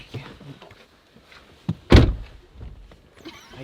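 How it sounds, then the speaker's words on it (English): Truck door shut firmly during a spring turkey hunt in South Dakota, one solid close slam in the middle amid low rustling and faint movement. "Don't slam the door."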